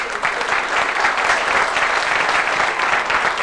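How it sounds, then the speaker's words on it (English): Audience applauding a country band in Donegal: dense, steady clapping from a sizeable crowd, even and continuous throughout with no voices over it. "Give them a nice round of applause once again there, please."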